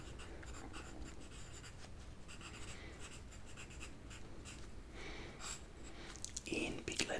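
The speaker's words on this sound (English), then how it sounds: "So I will write now." Pen scratching across paper while drawing a map of Germany, a continuous close, quiet scrawl with soft breathy whispering underneath.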